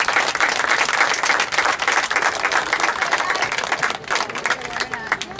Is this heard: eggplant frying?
no